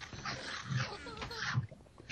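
A video game dog whimpers and yips softly during dark underground mining, with a couple of faint whines mixed under a player's voice and game noise.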